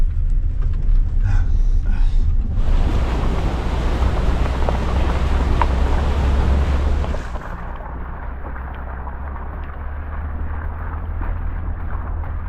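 A car carrying a group and their dogs drives along wet mountain roads in gloomy, rainy weather, its steady engine rumble and road noise loud and continuous, with a brighter surge in the middle before settling to a lower drone.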